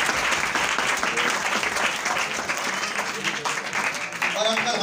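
Loud applause from a crowd, with sustained clapping throughout and voices speaking or calling out over it.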